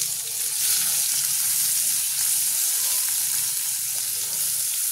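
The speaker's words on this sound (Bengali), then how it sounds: "আলুটা আমার লাল ভাজা হয়ে গেছে" Potatoes fry in oil in a home kitchen, giving a loud, unbroken hiss and sizzle that holds steady from start to finish, close to the pan and free of speech.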